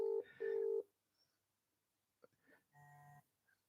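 Phone dialing tones: two loud, steady tone bursts, then a quieter ringback-like tone after a short gap, close and clear with no one speaking.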